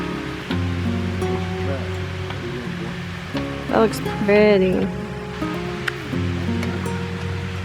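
Water pours down in a continuous rushing wash, close and steady, while someone talks over it.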